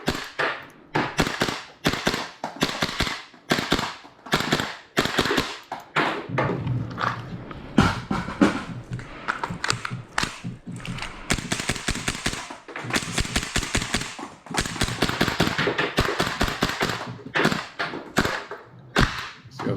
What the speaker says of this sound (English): See how those shells are ejecting? Now that looks super realistic.